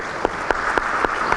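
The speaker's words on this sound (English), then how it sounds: "giving Iraq a round of applause" Applause from a ministerial session audience at a conference on industry decarbonisation, a short burst of dense clapping with a few louder claps standing out at a steady beat, moderately near.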